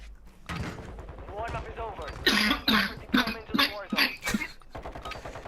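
Harsh, raspy coughing from a player over in-game proximity voice chat, a run of rough bursts that sound more like choking than a plain cough, mixed with talk and game noise.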